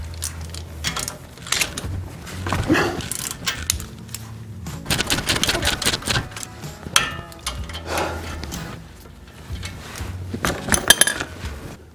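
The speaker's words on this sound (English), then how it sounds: "let's remove the cotter pin and castle nut off this steering damper here. Three-quarter inch socket." Three-quarter inch socket wrench removing the castle nut from a Jeep Wrangler steering damper, a close run of metallic ratcheting clicks and clinks with irregular taps and knocks, steady through the stretch and louder toward the end.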